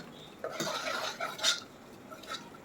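A spoon stirs cooked dal, tomato and onion in a metal pot for sambar, giving soft scraping and clinking against the pot, fairly quiet and close, with no talking.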